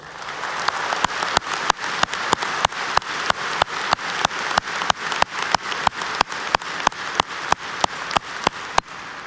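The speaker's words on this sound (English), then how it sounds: "Please join me in congratulating them with a round of applause." Sustained applause from a commencement audience honoring agricultural sciences graduates, a dense steady wash of clapping cut through by sharp, evenly spaced louder claps or clicks throughout.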